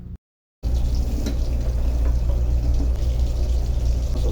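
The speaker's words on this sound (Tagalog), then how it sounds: "Habang piniprito natin yan" Pork pieces frying in a covered pan for sweet and sour pork, a steady soft sizzle that runs on alone after a brief silent gap at the start.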